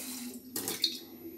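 Water poured into a pan of salt cod in a home kitchen, a short splashing burst lasting about half a second over a low background hum.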